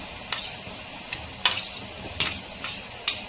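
Garlic fries in hot oil for a village-style mango fish curry, a soft steady sizzle punctuated by six sharp scraping stirs of a spoon in the pan, close by with no talking.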